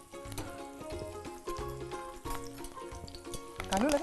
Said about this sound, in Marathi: कढीपत्त्याचं एक चार पाच पानं आपण टाकूया तडका बसेल आता त्याला लागलेच बारीक चिरलेला कांदा